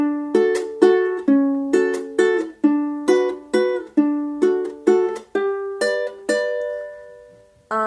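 A ukulele strums a song's chords in a steady pattern, about a dozen bright strokes with the last few ringing longer, close and with no voice.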